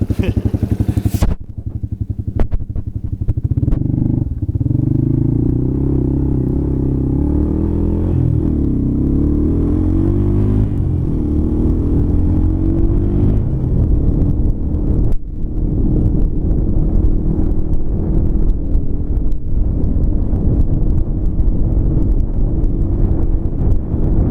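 A ranch vehicle rumbles and clatters across rough ground at a steady speed, its engine droning up close while wind buffets the microphone the whole way.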